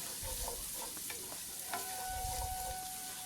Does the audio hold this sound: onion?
yes